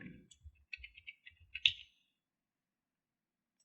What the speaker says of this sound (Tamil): இங்கே வந்து நான் நேம் டைப் பண்ணிக்கிறேன்.